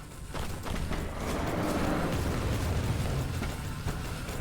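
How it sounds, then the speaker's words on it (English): Explosions rumble and crack in the video game Incision, a dense wash of booming blasts and bursts that stays loud and continuous throughout. "I heard explosions."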